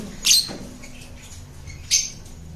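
Caged pet birds kept for sale give two sharp, shrill squawks about a second and a half apart, close by, over a faint steady background hum.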